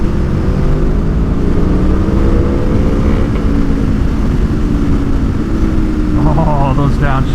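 A 2021 Aprilia Tuono V4 motorcycle fitted with a new exhaust roars loudly up close through a run of downshifts, engine pitch rising and falling with rev blips and wind rush, while a rider's voice talks over it.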